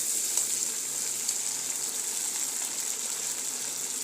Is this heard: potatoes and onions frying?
yes